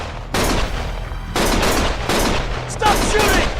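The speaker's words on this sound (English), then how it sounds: "Stop shooting!" Sustained loud automatic gunfire in the video game Lost Judgment, a dense continuous rattle in long bursts separated by short breaks, with faint voices underneath.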